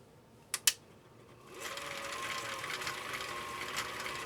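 A Husqvarna Viking CI 21A sewing machine runs steadily in slow gear, stitching through four layers of commercial-grade canvas. Two sharp clicks come first, then a continuous close mechanical whir and hum with faint rhythmic ticking.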